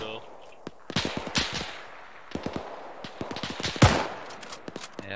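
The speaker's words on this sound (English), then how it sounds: "This is a goddamn firefight." Rapid bursts of machine-gun and rifle fire crackle through a World War II firefight on Malden, dense overlapping shots near and far with a heavy blast midway, while voices talk over the combat.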